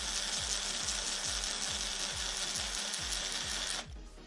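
A small drill bit grinds into a stripped screw on a Nintendo Switch Joy-Con, whirring with a rapid rhythmic ratcheting pulse up close, then cutting off near the end.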